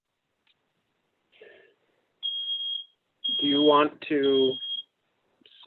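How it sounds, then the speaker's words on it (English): A smoke alarm chirps in a meeting room, high piercing beeps sounding briefly among spoken voices that overlap the tones. "That's the smoke alarm."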